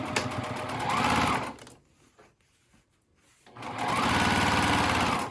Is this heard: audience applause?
no